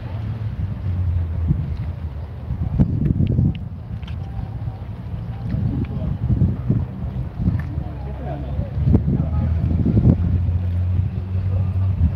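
Wind blowing outdoors on a summer walk in a Finnish hometown, a steady low buffeting rush across the microphone with gusty surges throughout, no speech.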